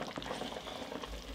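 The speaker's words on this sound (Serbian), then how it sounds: "Povremeno ovako s vremena na vreme okrenete na drugu stranu i krčkate." Meat simmers in water in a covered pot, giving a faint, steady bubbling hiss.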